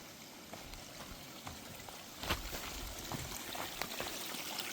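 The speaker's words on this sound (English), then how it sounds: "Some water." Water trickles and runs along a woodland greenway trail on an early April morning, a steady close watery wash with small splashy bursts, no talking.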